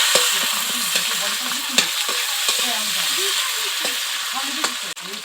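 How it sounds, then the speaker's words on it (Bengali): Chopped onion, green chilies and tomato fry in hot oil in a pan with a steady, loud sizzle, while a utensil scrapes and stirs at irregular moments. Nobody speaks. "3টে কাঁচা লঙ্কা কুচি দিয়ে দিচ্ছি ও টমেটো কুচি দিয়ে দিচ্ছি। ভাজা ভাজা হবে।"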